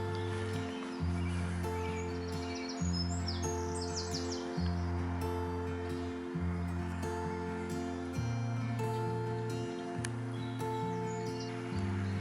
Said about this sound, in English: Oh, blackbirds sneaking up.